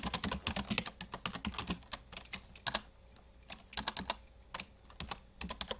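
Brisk typing on a computer keyboard in an office, close and clear, with dense runs of key clicks separated by short pauses and no voices.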